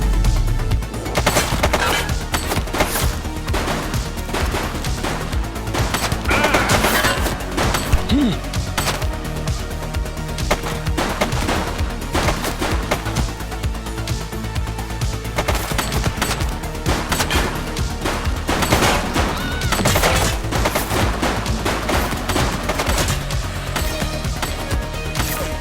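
Gunfire in The Precinct, a police video game: repeated shots and bursts of automatic fire crackle through a dense, loud mix of crashes and game noise, with some voices underneath.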